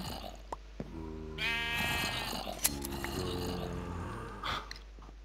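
Sheep in a video game bleating in two drawn-out, fairly quiet calls over a steady low hum, with small clicks in between.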